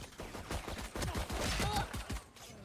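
Rapid bursts of gunfire in the Valorant video game during a competitive esports grand final, dense overlapping shots at full volume.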